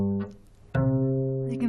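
Two sustained tones sounding a perfect fourth apart, played one after the other: a softer first note, then a louder second note that rings steadily to the end, with no voices.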